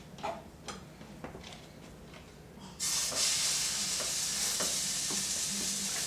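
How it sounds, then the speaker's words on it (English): A bacon jack burger patty hits an oiled pan, starting with quiet scrapes and taps, then a loud broad sizzle bursts in and holds steady, close and continuous, with faint ticks over it. "And you're going to throw your burger on there."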